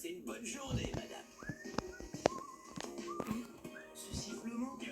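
Cartoon character whistling a short, wandering tune in clear rising and falling notes, mixed with other voices talking and background sounds.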